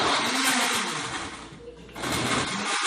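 A blender whirs steadily while mixing aloe vera juice with water, a loud continuous buzzing drone that dips briefly midway before surging back up.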